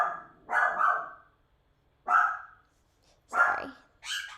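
A pet dog barks several times nearby in a quiet room, short sharp woofs in irregular bursts separated by brief silences.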